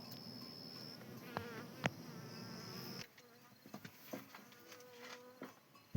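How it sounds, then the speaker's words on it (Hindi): Honey bees buzzing near hive boxes beside an earthen house in a rural Himalayan village, a steady faint drone with occasional closer passes, faint ambient clicks and a few distant sounds in the background. "हमेशा आना जाना है यहाँ से मधुमक्खियों का।"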